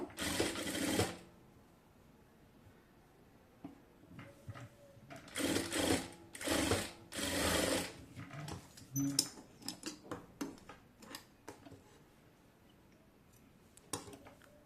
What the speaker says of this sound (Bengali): এখান দিয়ে হচ্ছে একটি সেলাই করে এটিকে হচ্ছে আমি আটকে নেব